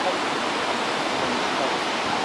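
A waterfall beside the Trollstigen road in Norway gives off a steady, dense rush of falling water, loud and unbroken for the whole stretch.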